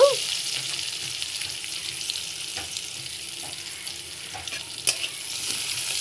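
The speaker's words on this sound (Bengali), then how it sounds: "পেঁয়াজটা আমি কিছু দূর ভেজে নিব" Onion fries in a pan for a jackfruit-seed mash, a constant hiss of sizzling oil with faint occasional clicks of stirring.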